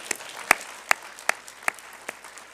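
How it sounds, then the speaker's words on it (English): At a NASA Glenn Research Center agency honor awards ceremony, the audience gives the honorees a final round of applause: a soft crowd patter under a few sharp, regularly spaced louder claps ringing out nearby. "Let's give all our honorees one final round of applause"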